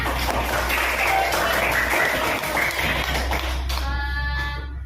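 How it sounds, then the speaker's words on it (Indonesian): A classroom of students clapping for a classmate, heard as a dense, steady patter of many hands through most of the stretch, then tapering off near the end as a voice speaks. "Oke, tepuk tangan oleh Karisa."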